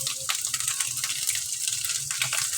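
Chicken and noodles frying in a pan, a steady hissing sizzle with light scraping and rattling from stirring, close and continuous.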